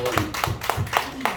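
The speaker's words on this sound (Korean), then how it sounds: "믿으시면 영광 박수" A church congregation clapping together during a Sunday morning worship service, a steady rhythmic beat of about five evenly spaced claps, close and moderately loud, with voices faintly beneath.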